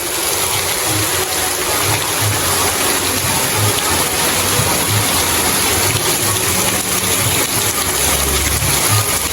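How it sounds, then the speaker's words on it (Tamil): Heavy rain pours down steadily in Jaffna, a loud, dense, unbroken hiss of falling water with a low rumbling underlayer, close and constant throughout. "நல்ல மழை தான் வந்து பெஞ்சு கொண்டு இருக்கும்"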